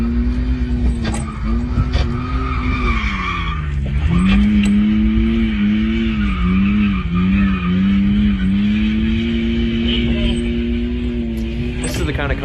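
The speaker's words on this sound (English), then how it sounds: "we've got a clip of him drifting probably" A BMW 3 Series 325 car drifting, with a steady engine drone and long wavering tire squeal that dips and rises, loud and close, with talk over it.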